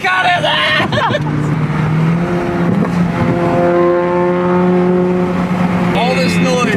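Nissan Skyline R32 GTST with a newly installed aftermarket exhaust, driving at about 30 mph, its engine and exhaust droning loudly and steadily with rising and falling tones as it shifts, while people talk over it.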